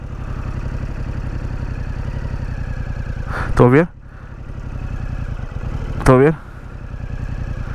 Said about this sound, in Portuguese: Eu vou soltá-la devagarinho e vocês vão ouvir o barulho da moto.